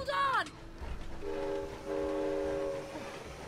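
A train in the co-op video game It Takes Two sounds a rising whistle, then holds a long, steady horn blast over a low rumble of rolling wagons.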